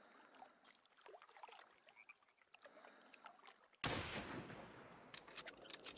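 A single loud Mosin-Nagant rifle shot in the hunting game theHunter, Val des Bois map, cracking sharply after quiet ambient forest sounds and trailing into a short decaying echo with a few clicks.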